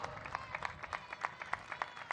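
Faint, rhythmic clapping at an outdoor commemoration ceremony for the 205th anniversary of the Battle of Boyacá. Distinct claps land in an even, regular beat over a low background murmur.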